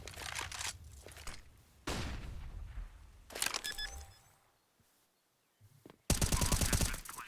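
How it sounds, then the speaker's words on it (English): Gunfire from CS:GO on the Inferno map during a professional match, several loud bursts of rapid shots separated by brief lulls and a near-silent gap, ending in a heavy volley. "Couple of pot shots."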